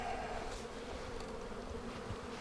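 Honey bees buzz in an open hive box with drone brood, a soft, continuous close hum of many insects with no voices.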